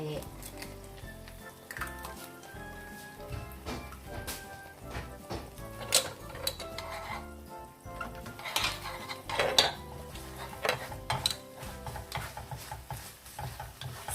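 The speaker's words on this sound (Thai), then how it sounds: "จะเริ่มผัดเลยค่ะ ใส่ไข่" Stir-frying pad see ew made with spring roll wrappers and egg in a pan, with a steady close sizzle under repeated clanks and scrapes of a utensil against the metal, rising and falling in busy bursts.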